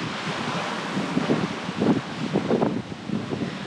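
Wind rushing over a heeling sailboat, a steady loud broadband roar with gusty buffeting against the microphone and hints of water splashing, continuous throughout.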